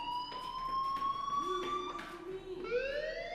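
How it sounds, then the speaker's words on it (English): A fire alarm rings in the video game Life Is Strange, a steady electronic tone with a rising wail near the end, moderately loud and alone. "Hey, do you hear that fire alarm?"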